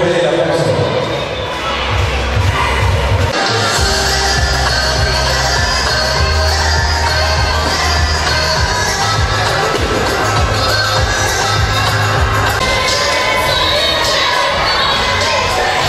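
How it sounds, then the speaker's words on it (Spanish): A loud outdoor crowd cheers and shouts steadily at a fair queen's coronation in Tatoxcac, with children's voices and dense chatter running throughout, and a low rumble underneath. "Fuerte el aplauso."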